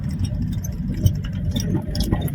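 Car driving along the Samriddhi Highway, a steady mid-pitched engine and road rumble heard from inside, fairly loud and continuous through the short stretch.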